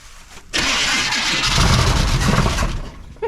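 A 1979 Chevrolet C10 squarebody with a little gas poured into the carburetor cranks and catches, its engine roaring loud and rough for a few seconds before easing off.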